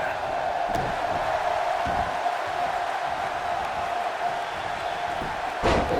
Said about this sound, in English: In addition to this crowd being incredibly passionate here tonight,